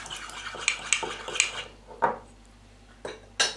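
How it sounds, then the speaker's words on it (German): Egg white is stirred in a bowl while baking coconut cookies, heard as a run of close clinks and taps of a utensil against the dish with brief pauses between strokes, and no voices. "Den Eiweiß einmal durchrühren."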